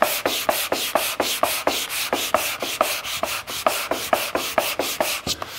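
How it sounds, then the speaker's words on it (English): Steady back-and-forth strokes of sandpaper rasp against the carved inside of an archtop guitar's arched wooden plate, close and rhythmic, about three or four strokes per second with no talking. "you can see this isn't a whole lot of hand sanding and cleaning up pretty well"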